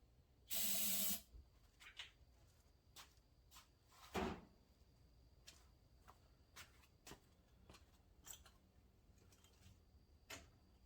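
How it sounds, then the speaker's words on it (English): Carb cleaner spraying into the engine of a John Deere Z920M zero-turn mower that has stopped running: one loud hiss lasting about half a second, followed by scattered light clicks and taps in a quiet setting. "Let's just put a little carb cleaner down in and see what happens."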